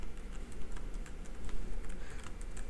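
Fingers tap a computer keyboard to enter a password, a quick, close run of light clicky keystrokes over faint background hum, with no talking.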